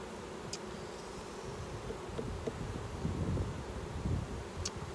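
Honeybees buzzing during a hive inspection at the start of the season, in a queenless colony: a continuous low drone with swells, a few faint clicks, no voices.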